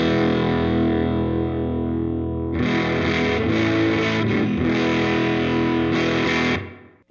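Fender Jazzmaster electric guitar played with the gain turned up high, a thick, sustained, heavily distorted chord that swells with picked movement and then cuts off, loud and alone.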